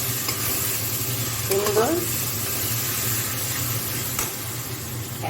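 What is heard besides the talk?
spice paste frying in oil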